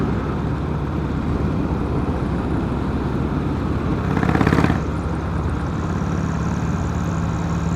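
Harley-Davidson Sportster 1200 engine idling with a steady low rumble throughout, a brief louder surge midway, then settling back to the same even idle.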